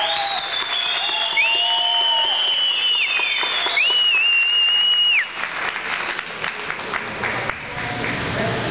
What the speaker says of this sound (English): I just wanted everybody to give Angela a big round of applause.